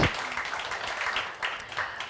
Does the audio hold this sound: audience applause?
yes